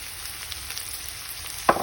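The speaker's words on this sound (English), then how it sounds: "Just fry it for until golden brown." Vegetables and spices, including tomatoes and a cinnamon stick, fry in a pan with a soft steady sizzle, ending in a brief sharper crackle, close and brief.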